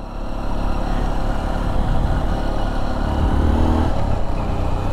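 A Royal Enfield motorcycle engine runs close by with a steady, throbbing low rumble that swells slightly midway, with no voices over it.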